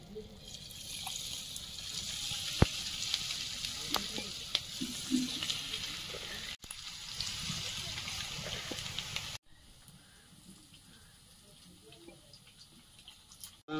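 Loud, crackling sizzle of food frying in hot oil, with sharp pops and clinks, then a sudden drop to a much quieter hiss.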